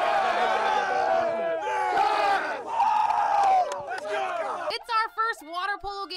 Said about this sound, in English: Take us out with a cheer.